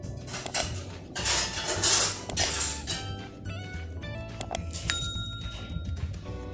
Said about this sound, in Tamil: வேர்க்கடலையை அப்படியே எண்ணெய் சேர்க்காமல் வறுத்தெடுத்துடலாம்